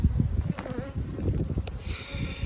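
Honeybees hum around an open beehive, a continuous close buzzing drone with individual bees passing near, wavering in pitch and loudness throughout.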